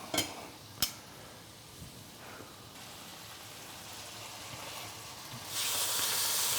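Hearty mushrooms sear in a skillet with a soft, steady sizzle and hiss, a couple of sharp pops early on, and the frying swells louder near the end.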